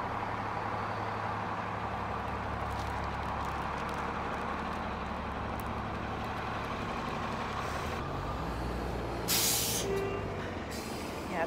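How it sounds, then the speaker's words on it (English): City buses with air brakes return to the depot at the end of rush hour, a continuous low rumble of heavy engines with a sharp hiss of released air near the end, heard close by from the street. "There are a ton of buses I'm walking by right now."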